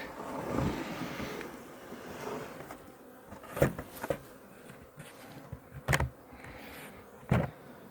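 Honeybees flying around a hive on a mild day near +6°C, a buzzing drone with several louder passes as bees fly close by the microphone, no speech.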